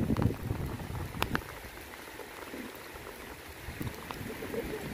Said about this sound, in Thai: ฝนตกแล้วพี่น้อง